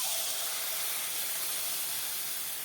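Palm-fruit malpua batter hisses steadily as it fries in hot oil in a wok over medium heat, a continuous bright, close sizzle with no break and no talk.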